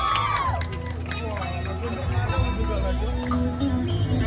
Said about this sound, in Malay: Berikan tepukan yang gemuruh kepada peserta yang pertama.